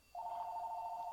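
A telephone rings with a single steady electronic tone that starts abruptly and holds for about a second, clear but modest in level against a quiet room.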